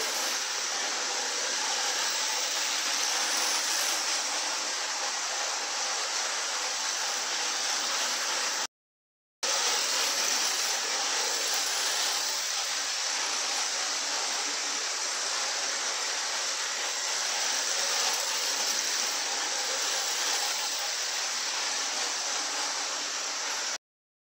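A steady, hissing rush of a running model Great Western Railway King class steam locomotive continues for a long stretch, with one brief gap of silence partway through.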